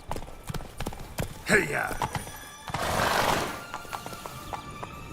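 Roach, a horse in the Witcher 3 video game, clip-clops with rhythmic hooves throughout and lets out a loud neigh near the start, while a rider shouts a call over it.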